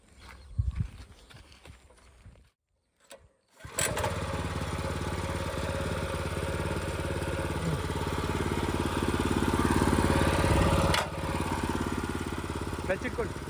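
A 7HP petrol power weeder engine starts after a few short pulls, then settles into a steady, loud, close chugging run that rises slightly before easing back. A person speaks at the start.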